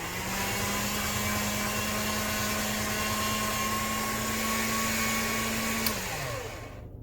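A motorized polymer clay machine hums as it rolls clay on setting 0, a steady, close mechanical whine that holds evenly for several seconds before winding down and stopping.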